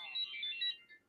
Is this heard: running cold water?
no